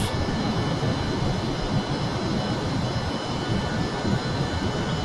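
A steady, loud video-game jet engine roar as the aircraft climbs, holding without a break, a dense rumbling drone with a high whine running on top.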